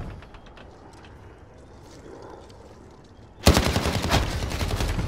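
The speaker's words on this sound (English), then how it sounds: "Cruise missile, go for launch." Video game combat: after a quiet stretch of faint background, a sudden loud burst of rapid gunfire erupts and keeps hammering until the end.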